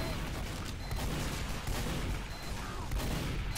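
A sentry gun in a video game fires in a dense, continuous stream of overlapping shots, loud and sustained with little pause, and no voice clearly over it.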